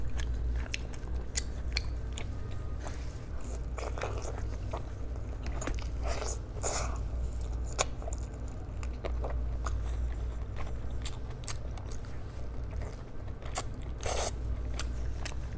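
Close, crunchy biting and wet chewing on a steamed chicken leg, oily and served with giblets, repeating steadily with sharp crisp peaks and no talk.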